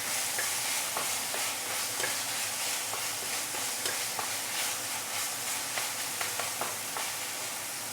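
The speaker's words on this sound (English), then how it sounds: "Saute a bit." Ingredients sautéing in a pan for steamed flounder with taucu sauce: constant hissing sizzle broken by repeated sharp spatula scrapes and clicks against the pan, close and without speech.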